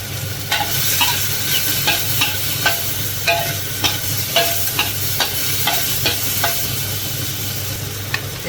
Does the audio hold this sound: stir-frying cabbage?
yes